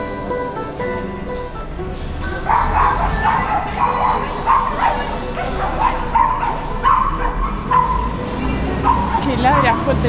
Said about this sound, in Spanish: Que ladra fuerte el perrito.